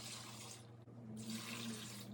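Water runs steadily from a kitchen tap into a pot, about eight cups for a vegan broth, a continuous close hiss with a brief break partway through.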